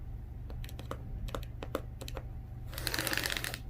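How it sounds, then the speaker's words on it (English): A rotary cutter slices interfacing off a bolt for a T-shirt quilt. A few soft ticks and handling taps come first, then a close, crisp scraping crunch runs for about a second. "I'm going to cut 13 inches off of this bolt."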